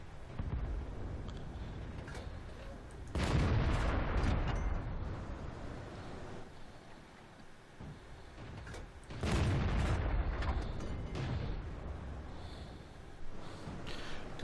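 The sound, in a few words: artillery fire in the video game World of Tanks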